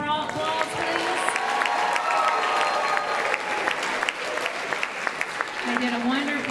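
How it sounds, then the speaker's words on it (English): An audience at the ICC Indians Got Talent 2018 show gives the contestants a long, loud round of applause, dense clapping sustained throughout with some crowd voices and a few cheers. "Let's give them one more big round of applause, please"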